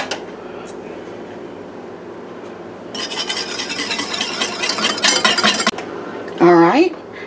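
Buttermilk and baking soda stirred together in a bowl for an Appalachian stack cake, a few seconds of scraping, clinking strokes against the bowl rising in the middle, followed by a short tonal sound.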